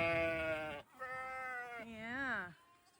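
Dairy ewes on a farm give two long, loud bleats close by, the second rising and wavering before trailing off, with a short gap between them and nothing else heard around them.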